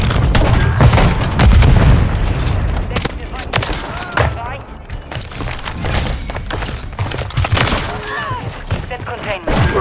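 Explosive charges blow up a target in Modern Warfare 3: heavy booming blasts and rumbling debris over dense, loud game noise, with voices talking over it.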